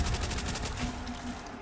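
In the Black Ops Zombies map Nacht Der Untoten, a Thompson submachine gun fires a short rapid burst, its rattling shots repeating quickly before fading into game noise.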